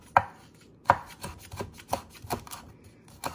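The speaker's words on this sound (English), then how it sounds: "we're gonna slice the calf lime leaves" A knife slices kaffir lime leaves thinly on a cutting board, making a series of sharp, fairly even chopping taps about every half second. Each tap is close and crisp, with quiet pauses between them.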